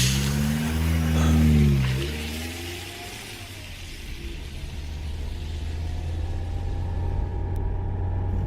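Car pulling away and accelerating, a low rumbling engine rising in pitch briefly then settling into a steady, fairly loud drone as it drives off, with no talk.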